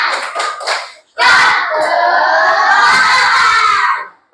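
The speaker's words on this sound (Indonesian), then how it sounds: "Tepuk semangat." A group in a morning training session breaks into the loud "tepuk semangat" clapping chant, a short burst of voices, then a sustained mass shout with cheering that carries on for several seconds before cutting off.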